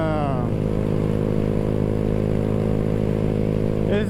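Honda Grom motorcycle held at wide open throttle near 57 mph, a loud steady mid-pitched engine drone with wind rush. It sounds close and continuous, with a brief higher rev shift at the start and end.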